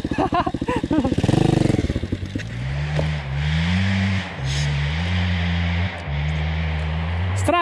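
A small Loncin 110/125 enduro motorcycle in a forest, heard up close as its engine revs loudly, stutters, then settles into a steady, droning run with rising and falling throttle, alone without voices.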